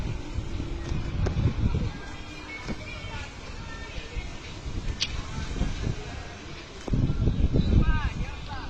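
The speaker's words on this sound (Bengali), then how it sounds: "অনেক বাতাস হচ্ছে" A strong evening wind at a home with a mango tree buffets the microphone in heavy low rumbling gusts, loudest at the start and the end, with voices present.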